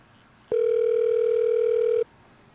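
A video call ringing tone, one loud steady electronic beep lasting about a second and a half that starts and stops abruptly over faint room noise.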